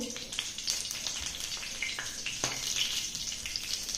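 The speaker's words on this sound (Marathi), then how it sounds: "आप्पे पात्र चांगलंच गरम झालेलं आहे आणि मी यामध्ये एक कढीपत्त्याचं पान असं घालणार आहे" Curry leaf dropped into hot oil in a heated appe pan sizzles steadily at close range, with crackling pops and faint clinks, no talk.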